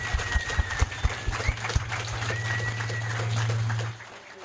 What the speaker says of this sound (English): Let's get a big round of applause for them.